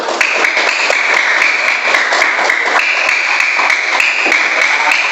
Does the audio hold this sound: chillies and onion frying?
no